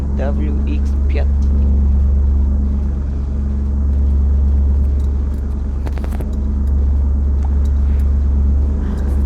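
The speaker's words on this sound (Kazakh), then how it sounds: "BMW X5." BMW X5 SUV driving in the Offroad Simulator video game, a steady loud low engine drone throughout with a voice talking over it.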